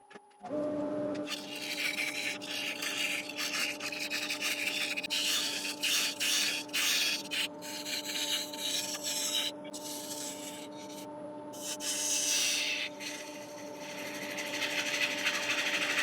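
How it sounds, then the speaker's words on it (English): A one-inch spindle roughing gouge cutting a yew log spinning on a wood lathe: a steady motor hum under continuous scraping and chattering cuts, broken by brief pauses. "So I'm just switching over to 1-inch spindle roughing gouge."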